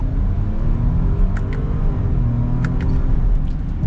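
An Audi Q7 SUV accelerating at full throttle, heard from inside the cabin as a steady, loud low engine rumble with a gently rising tone and no pauses.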